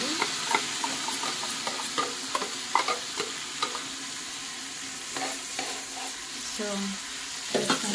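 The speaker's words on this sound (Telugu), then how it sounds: "Coriander leaves వేసేస్తున్నాము. కర్రీ లీవ్స్ కూడా ఉన్నాయి." Coriander and curry leaves with garlic paste fry in a pan for an eggplant curry, the oil sizzling steadily under repeated scraping stirs of a spoon against the pan, with one brief spoken word.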